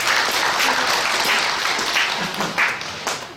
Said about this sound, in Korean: 영광의 박수 같이 하겠습니다.